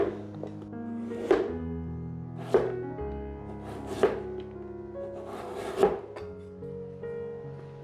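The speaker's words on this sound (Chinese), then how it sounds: "把芋头切片。" A knife slicing through peeled taro on a cutting board, five distinct crisp chops spaced about a second and a half apart, close and clear over a faint humming background, with no talk.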